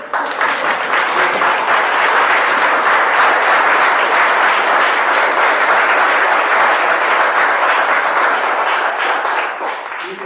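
Audience applause at a university talk on Chile's 1980 Constitution, a dense, loud, sustained wash of clapping from a full room that holds steady for about ten seconds before tapering slightly.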